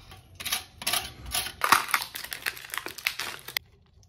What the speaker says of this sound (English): I'm gonna remove this old wax ring.